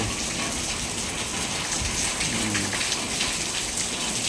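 Heavy rain pours down steadily, a dense, constant hiss of drops hitting surfaces close by, with no voices.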